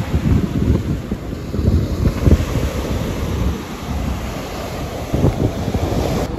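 Ocean waves wash onto a beach at Little Harbor, a steady low rumbling surf with irregular surges and heavy wind buffeting the microphone, with no voices heard.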